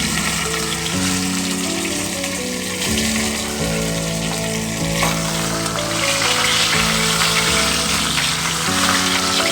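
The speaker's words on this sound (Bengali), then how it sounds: "জ্যান্ত মাছ তাই খুব কড়া করে ভাজবো না" Live fish fry lightly in oil in a kadai, a steady close sizzle and crackle layered under a sustained tonal hum with stepwise pitch changes, no talk present.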